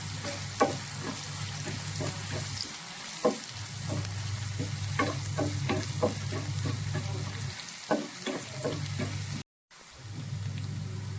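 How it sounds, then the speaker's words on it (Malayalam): Shallots sauté in a pan for a fish curry with a steady low sizzle, punctuated by repeated scraping and tapping of a stirring spoon, with brief pauses in the hiss, close and quiet. "ഇനി ഇത് നന്നായിട്ടൊന്ന് വഴറ്റണം."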